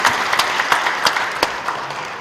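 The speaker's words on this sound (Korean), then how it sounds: "박수로 함께 기도해드리겠습니다." A church congregation claps during a thanksgiving service in Eunpyeong Church, rhythmic hand claps with sharp peaks repeating roughly every third of a second, steady and moderately loud, filling the room.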